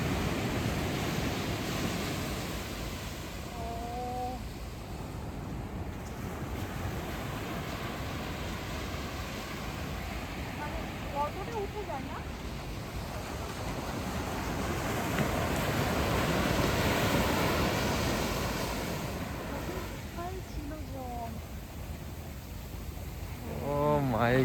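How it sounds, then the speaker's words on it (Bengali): High tide waves breaking on a quiet sea beach at night, a continuous roaring surf with swelling surges and some wind, and faint voices here and there. "জোয়ার এসছে, আওয়াজ হচ্ছে, শুধু আওয়াজটা দেখো"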